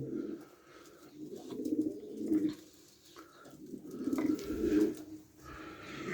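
Pigeons in a coop coo softly and repeatedly on a cold winter day, with low, rolling calls rising and falling in several bursts and no voices.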